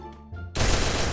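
Burst of game gunfire in Free Fire, a loud sustained volley of shots landing a headshot, cutting in abruptly after a quieter moment of in-game ambience.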